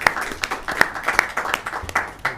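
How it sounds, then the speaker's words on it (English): Audience applause at a township council meeting, a steady patter of clapping hands with a few sharper claps standing out over about two seconds, fairly close and moderately loud. "a round of applause for them and their staff"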